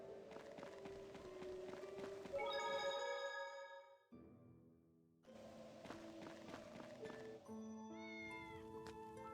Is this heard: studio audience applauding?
no